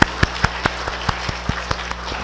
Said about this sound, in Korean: 우리 뜨겁게 박수로 환영하겠습니다.